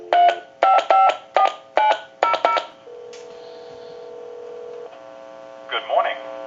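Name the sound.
telephone number being dialed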